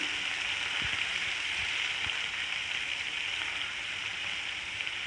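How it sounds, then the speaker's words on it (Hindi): Freshly crushed garlic and ginger sauté in a pan, giving a steady broadband sizzle with a few soft stirring knocks, continuous and close throughout. "बस लहसुन अदरक थोड़ा सौते हो चुका है"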